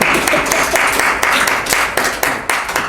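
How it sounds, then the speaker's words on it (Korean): A church congregation at a Sunday worship service claps together, a loud, dense burst of applause with sharp individual hand claps standing out and no talking over it. "자, 우리 박수로 한번 예."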